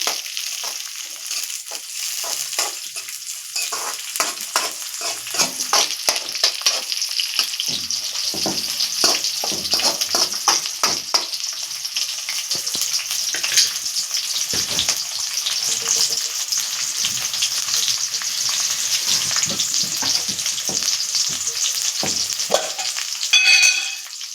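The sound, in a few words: green chillies frying and being stirred in a pan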